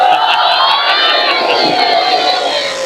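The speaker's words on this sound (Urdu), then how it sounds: "تھکے تھکے نعرے، مٹھی مٹھی داد، ڈھلی ڈھلی واہ واہ" Crowd at a Muharram majlis giving tired chanted slogans and scattered cheers, a continuous loud wash of many voices shouting and whooping together throughout.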